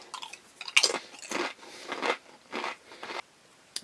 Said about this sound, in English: I'm sorry for those who have an issue with the sound of chewing.